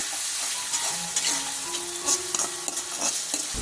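Onion paste with salt, split cardamom, a piece of cinnamon and a bay leaf fries in hot oil, giving a steady, close sizzle broken by soft stirring scrapes, with no talking.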